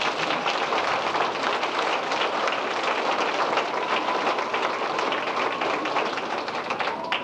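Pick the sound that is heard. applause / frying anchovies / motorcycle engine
applause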